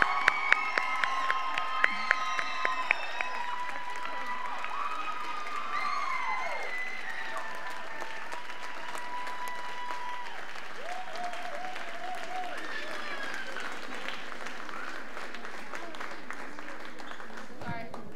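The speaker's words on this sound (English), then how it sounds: "Can we give them some love and a big round of applause?" A crowd applauds and cheers after a children's theatre production of Finding Nemo, with a few sharp claps at the start swelling into sustained clapping, whoops and children's shouts that fill the room throughout.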